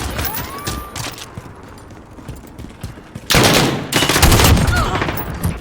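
M91 light machine gun firing in Call of Duty Modern Warfare, a rapid, loud sustained burst of automatic fire in the second half after quieter scattered shots and movement.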